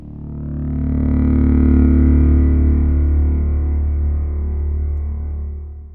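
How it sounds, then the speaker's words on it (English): A deep cinematic braam synthesized in Serum and passed through Eventide's Black Hole reverb plugin swells up as one loud, sustained, distorted low drone with a huge wash of reverb, then slowly fades, alone without speech. "I'm going to use Black Hole. It's this really great reverb plugin by Eventide."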